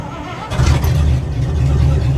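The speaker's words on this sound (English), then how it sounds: "Cold start from sitting overnight." A 1955 Pontiac engine cold-starts after sitting overnight: it cranks and catches, then settles into a loud, rough low rumble close by, running unevenly.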